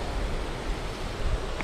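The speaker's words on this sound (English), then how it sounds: "unfortunately, it's quite windy" Wind blowing high on a mountain at night, a steady broadband rush of moderate loudness with faint low gusty rumbles and no voices.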